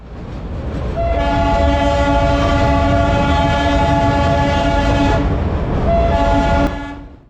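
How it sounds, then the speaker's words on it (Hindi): The Darjeeling narrow-gauge toy train sounds its horn in a long, loud chordal blast, breaking briefly before a second blast, with rail rumble beneath. "भीड़ बढ़ने लगी है तो ट्रेन हॉर्न बजा रही है।"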